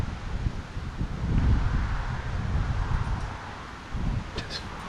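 Wind blows steadily across an overgrown old house lot, a broad rushing roar with gusts swelling and easing, loud and close against the microphone.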